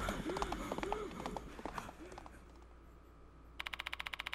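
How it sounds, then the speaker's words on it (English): A ghost horse gallops past in the horror video game Spirit Hunter: Death Mark II, with steady, rapid hoofbeats and an earlier whinnying cry, close and fairly loud, under game voices. "And continued galloping into the darkness."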